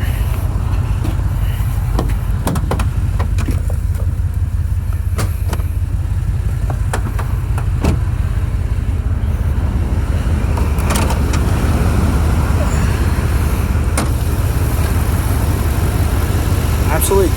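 A 2009 Toyota Tundra TRD SR5 engine with a TRD intake and true dual exhaust rumbles at a steady idle, a continuous low drone that stays close and even throughout, with faint voices in the background.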